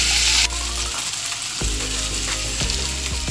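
A small tomato sautéing in a pan for ladies finger sambar, steady loud sizzle with a few stirring scrapes and a brief change in tone partway through.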